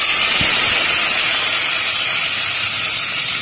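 Coconut oil heats in a pan with a loud, steady, unbroken hiss that carries throughout, with a small knock near the start.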